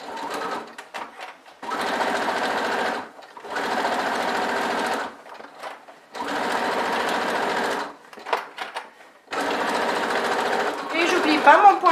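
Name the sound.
sewing machine stitching a fabric handbag seam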